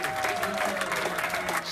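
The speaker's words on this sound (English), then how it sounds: "Staffers cheering as they closed in on victory" Staffers watching election returns at Trump Tower on Trump's election night cheer and applaud, a dense, continuous crowd roar with voices mixed in.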